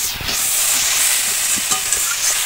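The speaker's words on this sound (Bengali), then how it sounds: "একদম ভালো করে মশলা খুব ভালো করে সবজি শাকের সঙ্গে মিশিয়ে নেব।" Spices being stirred into greens and vegetables in a hot pan, a steady loud sizzle with scraping stir strokes, close and alone.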